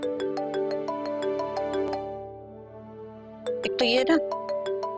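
A mobile phone ringtone plays as a repeating melodic tune in a Pakistani drama scene, loud and close, pausing briefly midway before resuming, with a short bit of speech over it.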